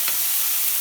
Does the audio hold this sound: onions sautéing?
yes